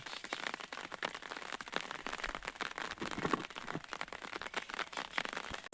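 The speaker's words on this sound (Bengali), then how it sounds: "বৃষ্টি পড়ছে" Steady rain falls over a cucumber field during harvest, a dense broadband patter of drops close by with irregular sharper splats, continuous throughout without talk.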